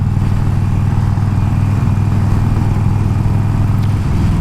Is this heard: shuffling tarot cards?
no